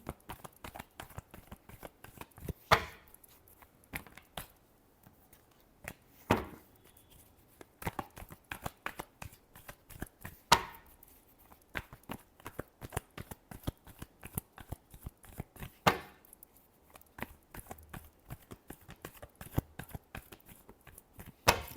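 Tarot cards shuffled by hand in rapid riffles and soft slaps, a close, quiet, continuous patter with periodic louder bursts, no talking.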